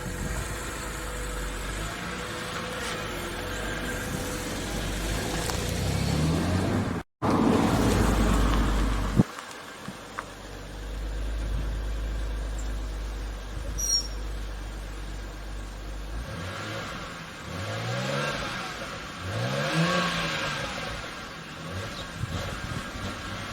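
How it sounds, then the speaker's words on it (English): A BMW 325i/330i E90 drives on a test drive after an oxygen sensor replacement, its engine hum steady and moderate under interior road and wind noise, with a brief dropout partway through and some revving later on. "take the car out for a quick test drive"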